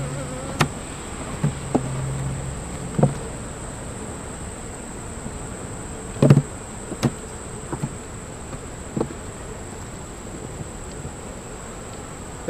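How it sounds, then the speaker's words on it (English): Honeybees buzzing steadily around the frames of an opened hive, a soft continuous drone with scattered close clicks and knocks from handling the wooden frames, no talking. "Got more bees in the center frame."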